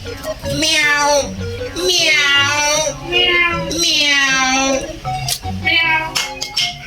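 A cat meows repeatedly in long, drawn-out, wailing cries, close by, with short pauses between calls and a few brief noises afterward.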